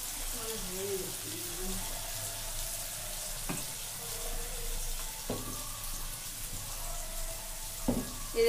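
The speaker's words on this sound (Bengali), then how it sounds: "ভালো করে কষানো হয়ে গেছে এটাকে।" Masala is sautéed on low flame in a pan, giving a soft, continuous frying hiss with a few sharp stirring knocks and faint background voice.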